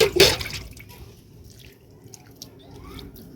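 Water splashing and trickling as garden plants, flowers and brinjal vegetables are watered, a brief splash up front followed by a soft, steady outdoor trickle.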